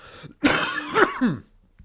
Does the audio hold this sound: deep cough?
yes